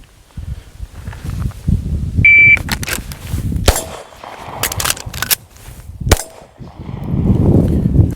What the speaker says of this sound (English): I'll first demonstrate using a traditional racking the slide method